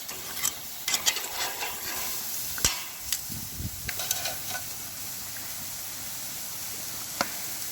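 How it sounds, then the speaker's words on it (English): Seasoned steaks searing on a grate over a Solo Stove Bonfire fire pit at over 500 degrees, with a continuous close sizzle broken by scattered clicks and taps of a utensil, and no talking. "we're searing our steaks because we're over 500 degrees here still"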